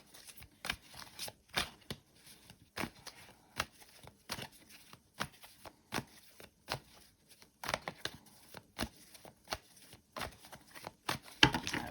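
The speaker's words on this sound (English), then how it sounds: "Quite a lot of cards falling out" Tarot cards shuffled by hand in a steady run of crisp riffling bursts, with a few cards slipping out and slapping down, close and fairly quiet with no talking.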